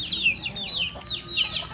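A chicken clucks repeatedly in quick, rising squawky calls, close by, with faint background noise.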